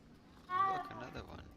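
A cat in Hogwarts Legacy gives one short, clear meow, rising and then falling, at moderate volume over quiet background ambience.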